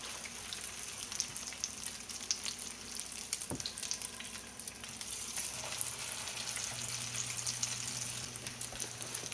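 Fish sizzles and crackles continuously in hot frying oil, a close, steady frying hiss with scattered pops and a brief clatter partway through, no voices.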